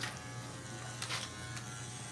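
Electric hair clippers set with a number one guard buzz steadily and close by during a live fade haircut, a constant hum with brief brighter bursts as the blade moves through hair.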